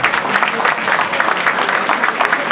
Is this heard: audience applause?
yes